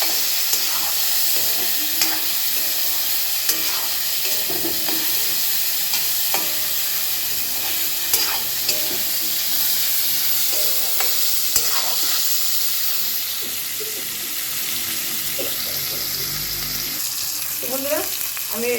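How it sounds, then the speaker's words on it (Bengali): Cut amla stir-frying in mustard oil crackles in a continuous close sizzle, broken by repeated scraping and stirring knocks of a spatula against the pan. "ভালো করে কেটে ভাজা ভাজা করে দেবো"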